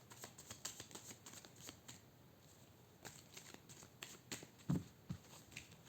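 Tarot cards shuffled by hand in irregular bursts of crisp riffling flutters and soft slaps, close and fairly quiet, with brief pauses between flurries and no talk.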